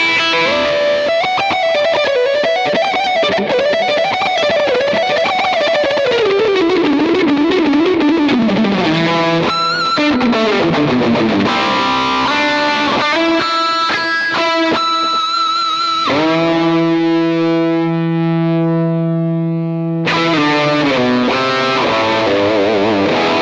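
An electric guitar played through a Victory Amps V1 Kraken distortion pedal, heavily distorted riffs and bends followed by sustained crunchy chords, loud and continuous with no talk.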